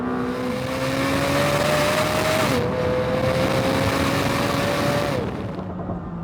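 A Lamborghini Temerario V8 revs high and loud, its tone climbing steadily, dipping briefly at a gear change, then climbing again before easing off near the end.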